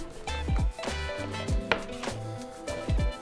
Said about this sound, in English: I'm using a bench scraper just to kind of combine it while it's in this shaggy dough mess here